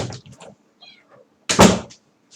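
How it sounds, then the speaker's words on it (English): Indoors, a cat gives a short, faint meow among soft rustles, then a loud thump like a door or cupboard closing follows nearby. "My cat's driving me nuts."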